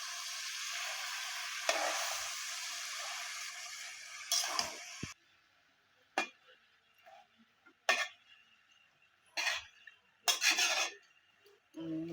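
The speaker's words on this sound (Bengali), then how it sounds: "মাছ দিয়ে শাক দিলাম হ্যাঁ, দিয়ে দিলাম শাক" Spinach added to fish in a pan sizzles loudly for a few seconds, then gives way to quieter stretches broken by short scraping bursts of stirring.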